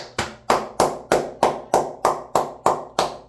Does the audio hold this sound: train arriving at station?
no